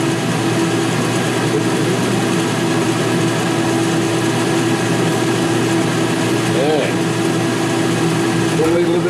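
A steady, loud fan drones through a gold refining workshop, a constant broadband hum with a low tonal whine, running without a break under a voice talking over it.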